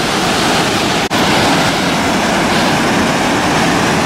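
Waterfall at Blackwater Falls State Park, a loud, constant roar of falling water filling the whole stretch, with one brief dropout.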